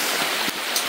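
Rain falls steadily outdoors, a dense, even hiss of drops close by with no other sounds.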